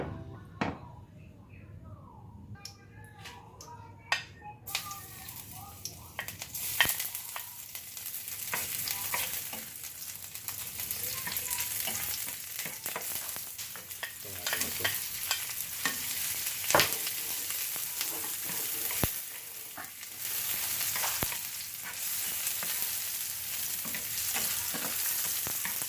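Garlic and onion sizzling in a hot pan, starting with a few knocks and clatters and then settling into a loud, continuous fry with scattered spatters and stirring scrapes.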